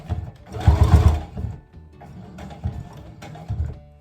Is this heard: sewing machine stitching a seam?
yes